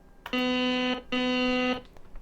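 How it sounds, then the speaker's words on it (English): Two long electronic cockpit warning tones from a Mirage F1CE in the DCS flight simulator sound in succession, each a steady buzzy beep lasting about half a second, loud and alone. "to turn that beeping noise off"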